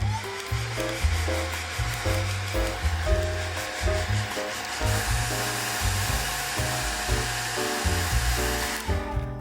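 A hair dryer blows with a loud, steady whooshing roar, running continuously close by before cutting off at the end.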